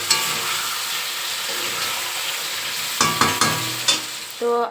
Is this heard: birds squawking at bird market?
no